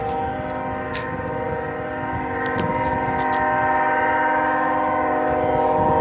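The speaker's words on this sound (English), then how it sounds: "Cut the horn already! Stop! Turn it off!" A stuck locomotive horn blares without a break, a loud sustained chord that holds steady and swells slightly louder toward the end, with faint clicks and rumble beneath.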